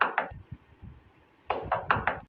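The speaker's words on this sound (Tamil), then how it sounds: "கதவு திறந்துதான் இருக்கு, உள்ள வாங்க. எதுக்கு தட்டிட்டு இருக்கீங்க?" Someone knocks on a door in two quick bursts of sharp raps, each a pair of close, fairly loud hits. Softer thuds fall in the pause between them.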